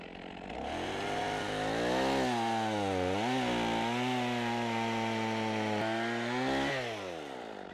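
A chainsaw roars close by, its engine pitch dipping and rising steadily as it bites through firewood, loud and continuous without pause.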